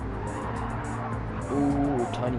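Racing car's tires squeal as it slides sideways mid-race, a wavering tonal screech rising over steady engine drone and track noise for about half a second before easing off.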